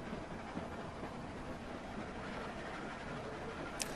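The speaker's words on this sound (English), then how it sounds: "Now, let's stop the train." A train in The Walking Dead video game rumbles steadily with a faint rattling of cars, a continuous quiet roar with a brief high squeal near the end.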